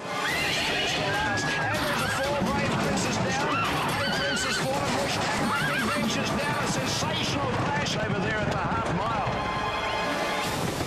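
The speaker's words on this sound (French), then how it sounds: "Nous voici sur un hippodrome pour une course qui se déroule normalement" Horses thunder past during a race at a racecourse, hooves drumming fast under a loud, busy crowd and commentary-like voices, with a whinny rising in the mix.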